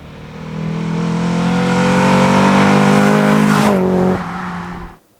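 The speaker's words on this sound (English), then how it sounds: "an absolutely sublime Mercedes-Benz 190e Evo I Power Pack" A Mercedes-Benz 190E Evo I Power Pack engine holds a loud, close, sustained rev that climbs, then drops suddenly near the end before cutting off.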